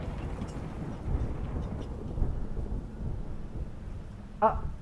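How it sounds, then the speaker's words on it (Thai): Low, rolling rumble of thunder after a lightning strike in The Evil Within video game, a dull continuous roar with a brief sharp crack near the end, moderately faint and without clear talk. "โอ้มีฟ้าผ่าด้วย"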